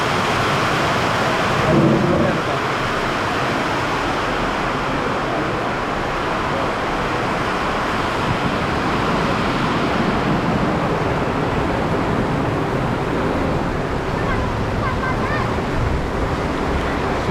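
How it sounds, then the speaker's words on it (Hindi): Rain pours steadily outdoors during a motorcycle ride, a dense continuous broadband hiss with wind rush, loud and unbroken throughout. "बारिश चालू हो गई बाहर।"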